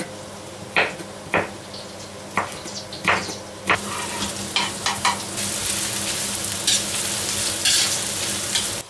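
Ginger frying in hot oil inside a kazan sizzles steadily, broken by several sharp clacks and scrapes of stirring that grow denser toward the end, with no talking.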